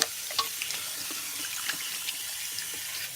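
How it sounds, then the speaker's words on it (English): Water runs steadily from a salon sink sprayer while hair with tape-in extensions is rinsed, a continuous close hiss with small splashes and taps throughout. "I'm just going to rinse her tape-ins off"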